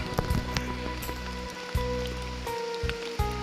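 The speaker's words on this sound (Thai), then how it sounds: "ตอนนี้ฝนยังตกลิ้นอยู่ทุกคน" Steady rain patters down on a surface outdoors, with scattered drops and a constant wash of noise, fairly close and even throughout.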